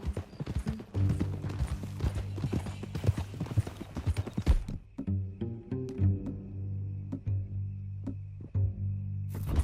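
Horse hooves clip-clop at a steady walking rhythm in the Red Dead Redemption II video game, close and clear, with a low musical drone underneath and brief character dialogue.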